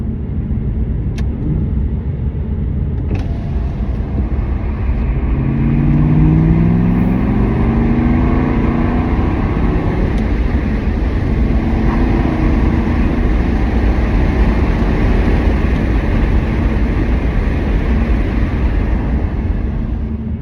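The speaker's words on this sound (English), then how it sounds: "That exhaust note" An Aston Martin Vantage engine hums and rumbles steadily from inside the cabin, its exhaust note rising in pitch as it accelerates, with no talking over it.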